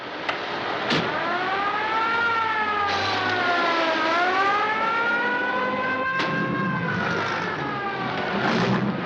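An ambulance siren in a 1939 film wails loudly and continuously, its pitch sweeping up and down in long arcs over a low engine rumble.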